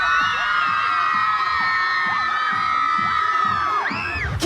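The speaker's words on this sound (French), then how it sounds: "Qui fait crier la foule le plus fort?" A crowd at a French television anti-gala cheering, whooping and shouting loudly and continuously, with high children's shrieks rising above the roar.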